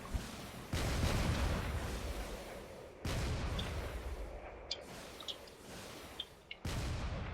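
A battleship in the Drone Wars video game fires its cannons, producing long rumbling blasts of heavy gunfire that cut in and out abruptly, with a few sharp cracks scattered between the bursts.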